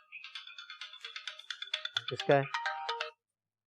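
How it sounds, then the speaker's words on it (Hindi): A phone ringtone in a TV drama scene plays as a bright, repeating electronic melody for about three seconds, then stops; a voice speaks briefly in Hindi-Urdu partway through. "फोन आ रहा है, देखो"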